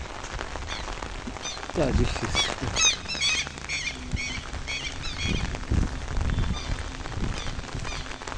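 Heavy rain falls onto a broken umbrella outdoors, giving a steady patter and splashing while a person speaks briefly over it.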